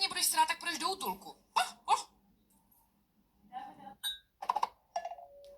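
A person speaks, then imitates a dog with a few short, sharp bark-like yelps in separate bursts, close and fairly loud.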